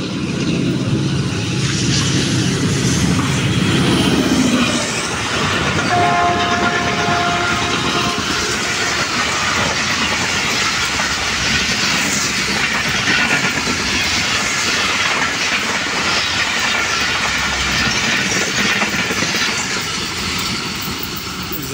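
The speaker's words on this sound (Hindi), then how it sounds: "105 किलोमीटर फी घंटा की रफ्तार के साथ पास हुई है जी उकाड़ा कैंट रेलवे स्टेशन पर 9 अप अलामा इकबाल एक्सप्रेस" The Allama Iqbal Express passes Okara Cantt railway station at 105 km/h, a loud, sustained roar of wheels and carriages with a horn blast near the start, rushing close by and staying steady as the train streams past.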